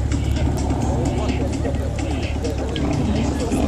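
At a drag racing event, a car rolls in with a low, steady engine drone that runs under loud, continuous crowd chatter and nearby voices.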